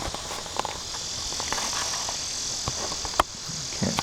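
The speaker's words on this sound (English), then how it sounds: "really nice to have the cicada sounds, the cricket sounds." Cicadas and crickets chirp together in a steady high buzzing drone outdoors, with a few faint footsteps and light knocks scattered over the continuous insect hum.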